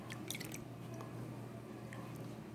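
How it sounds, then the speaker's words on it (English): Water running and splashing into a gold pan holding paydirt, a steady close wash of watery noise with faint wet squishes and small drips, no talking. "So I'm going to fill it with water."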